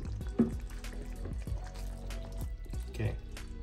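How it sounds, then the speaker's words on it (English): Tomato soup simmering in a covered pot gives quiet bubbling and popping with a few soft blips spread across a few seconds, close and faint, as a voice speaks briefly. "Okay, it started simmering."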